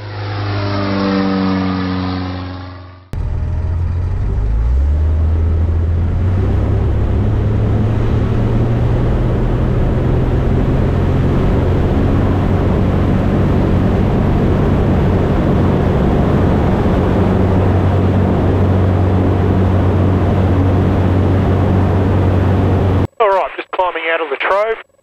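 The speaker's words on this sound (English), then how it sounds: "just make sure the engine keeps running" Zenith Cruzer light aircraft engine droning steadily and loudly during a climb, a constant mid-pitched hum in the cabin, with radio chatter and voices over it at times.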